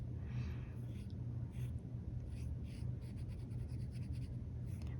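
Fine-nibbled Pilot Kakuno fountain pen writing on paper, a soft continuous scratching with short pauses between strokes over a steady low background hum.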